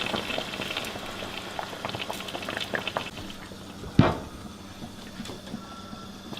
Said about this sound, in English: you can see we're boiling it good